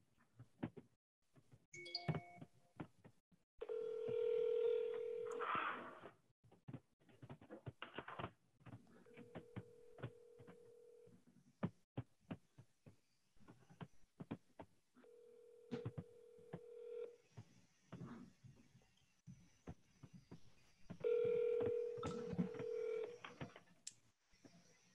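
An outgoing phone call on a cold call: quick keypad dialing tones, then repeated ringback buzzes spaced several seconds apart, with faint clicks and taps in between.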